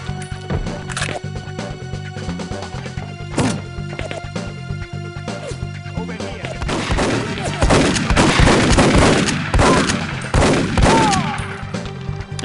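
Gunfire in the 007: The World Is Not Enough video game, with scattered shots at first and then a heavy rapid burst of firing and impacts rising to a loud, dense barrage.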